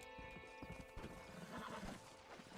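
Horse hooves clip-clopping in a quick rhythm with a whinny in the Red Dead Redemption video game, quiet and steady under a faint musical drone.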